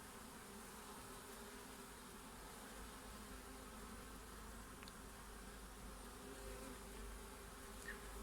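A wild honeybee swarm in August drones in a steady, dense buzz, close and unbroken, with no voices over it.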